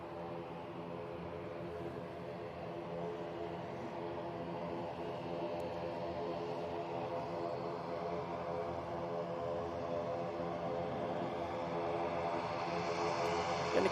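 An SAS Airbus A320neo arriving from Copenhagen touches down at Manchester Airport with a steady engine drone and layered tonal hum that builds gradually louder toward the end, heard alone without talk.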